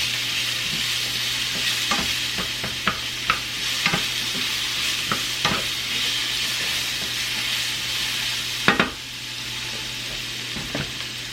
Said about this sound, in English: While this is sauteing for a few minutes